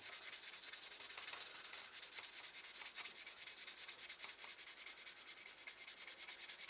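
Fast, steady back-and-forth sanding on an Ebbro DS 21 Pallas model car body, close and continuous with an even rhythm and no voices.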